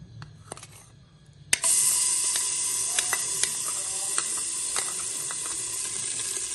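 Ginger garlic paste drops into hot oil and bursts into a loud, steady sizzle with crackling pops that keeps going, following a few soft clinks and quiet handling sounds in a home kitchen.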